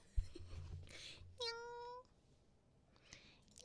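One short, close meow from a cat, clear and tonal, set against quiet room noise with faint rustling before and after.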